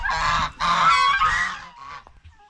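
Farm ducks calling, a few loud nasal honking bursts close by, fading into a quieter call at the end.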